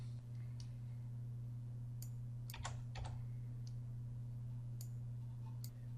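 Scattered keystrokes on a computer keyboard, a few quick clusters of close, crisp clicks over a steady low electrical hum, no voices.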